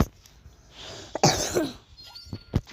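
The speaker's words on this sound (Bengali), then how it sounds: "এবার একটু কাশি আসতে পারে" A person with a sore, hoarse throat gives one harsh cough with a raspy throat-clearing edge, close and fairly loud, with a few faint clicks before and after.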